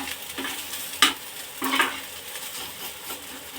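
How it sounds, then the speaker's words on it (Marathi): Onions fry in a pan for a masala bhaji curry, a soft sizzle under several distinct stirring scrapes and spatula knocks against the pan, close and moderately loud. "कांदा छान भाजत आलेला आहे"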